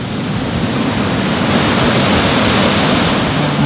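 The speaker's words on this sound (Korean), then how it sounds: "보세요. 물소리 들리기 시작하죠." Rushing stream in Israel, swollen by rainy-season rains, pours steadily and loudly as a dense, continuous wash of water close by, with no talk over it.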